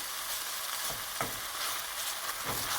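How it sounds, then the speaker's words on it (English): Garlic and ginger sizzle hard in hot oil in a pan over a lowered flame, with a steady loud frying hiss and a few scraping stirs. "now I'm going to go ahead and add my garlic and ginger"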